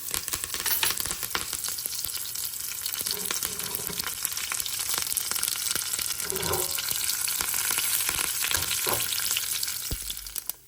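Mustard seeds, urad dal and curry leaves spluttering and sizzling in hot oil for a coconut chutney tempering, a steady dense crackle filling the whole clip with scattered sharper pops, close and fairly loud, no talk.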